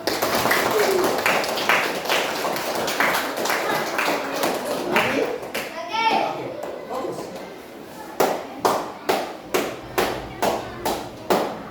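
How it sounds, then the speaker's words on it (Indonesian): Grade 5 pupils in an elementary school classroom clapping in unison, starting as dense clatter with voices, then settling into a loud, regular beat of sharp group claps. "Kasih tepuk tangan."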